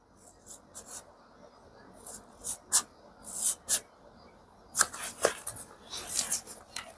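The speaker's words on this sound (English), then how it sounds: "Maybe 3/8 of an inch wide strip out of here." Scissors cutting a strip of fly-tying material, giving a series of close, crisp snips and rustles in irregular bursts with quiet gaps between them.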